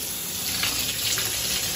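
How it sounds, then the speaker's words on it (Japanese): A hotel bathroom shower runs at steady pressure, a dense continuous hiss of spraying water close by with no voices. "シャワーの水圧チェックやっていきます"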